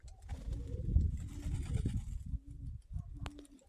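Low pigeon cooing rumbles through a few soft, repeated phrases, fairly close, with a faint background hiss.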